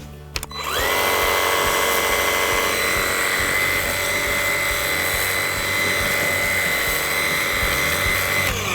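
A Cobra PW18024V battery pressure washer starts up and sprays continuously, with a steady, loud, high-pitched motor whine and water hiss that run unbroken for about eight seconds and carry no talk.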